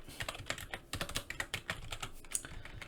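Rapid, uneven keystrokes on a computer keyboard while an AVERAGEIFS spreadsheet formula is entered, a quick run of close, crisp clicks with no speech.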